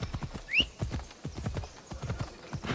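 A horse gallops in Assassin's Creed Odyssey, its rapid rhythmic hoofbeats clip-clopping steadily throughout, with a short high neigh early on over the running.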